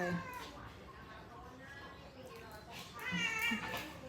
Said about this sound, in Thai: ส่วนส้มซ่าเป็นแมวตัวผู้